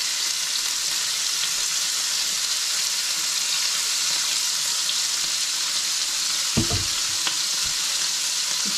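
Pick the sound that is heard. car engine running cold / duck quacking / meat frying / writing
meat frying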